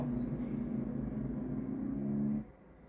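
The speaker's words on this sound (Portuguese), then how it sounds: "Ó, caminhão." Truck passing on the road, a low steady rumble with a droning engine hum that holds for about two seconds, then drops off abruptly as it goes by.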